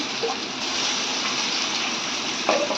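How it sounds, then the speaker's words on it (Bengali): Marinated meat tipped into hot oil with onion and bay leaf in a kadai, a continuous broad sizzling hiss held at even loudness throughout, close by and with no voices. "তারপরে মেখে রাখা মাংসগুলো এবার দিয়ে দিলে কড়াইতে"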